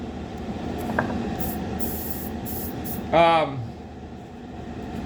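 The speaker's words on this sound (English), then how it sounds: "The first thing we gotta do is paint the inside of the hood so it's drying" A spray gun coats the inside of a 1932 Ford roadster hood with base coat, giving a steady airy hiss throughout, with a short rising squeal near the end and faint background sound underneath.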